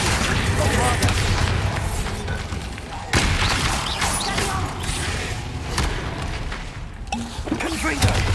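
Explosive blasts from the Bombarda spell in Hogwarts Legacy, booming bursts amid continuous dense game combat noise, with sharp impacts near 3 and 7 seconds and a steady loud roar throughout.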